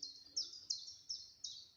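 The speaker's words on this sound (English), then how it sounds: "Song thrush here at Eakring" Song thrush singing at Eakring, a series of short, high repeated notes at an even pace, faint and somewhat distant against a quiet background.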